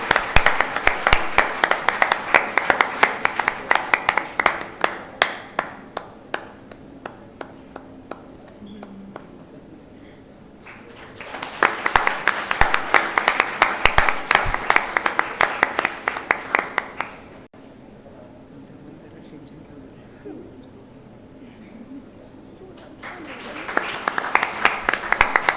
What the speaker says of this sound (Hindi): एक और आखिरी बार जोरदार तालियां।